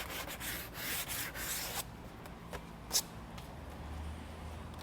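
Sanding to knock burrs off a cut edge while fitting a Victory 4x4 Strike steel bumper onto a 2010 Lexus LX, heard as quick rubbing strokes up close in the first couple of seconds, then quieter scattered scrapes.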